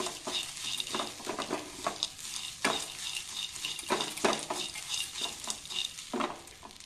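Grated coconut frying in a pan for chana dal chutney, with steady sizzle and repeated scraping stir strokes of a spatula against the pan, close and continuous.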